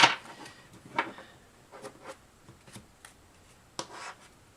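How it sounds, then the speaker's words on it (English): Tarot deck being shuffled by hand, a series of soft papery riffles and brushes of cards, close and quiet, with brief bursts separated by pauses. "We'll see if it comes out in the shuffling."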